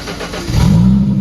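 A Ford Thunderbird's engine cranks and catches, the steady churn of the starter giving way to a loud, rising idle rumble close by, with no talking.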